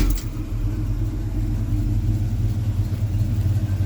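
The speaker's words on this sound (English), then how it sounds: "Let's fire this thing up so you can hear it." A 1959 Chevy 3100 pickup truck with a small cam fires up and settles into a loud, steady, low idle rumble, close by with no talking.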